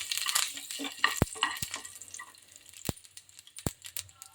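Curry leaves and chana dal sizzle in hot oil, a soft frying hiss broken by several sharp pops and crackles, close and fairly quiet, with no talk.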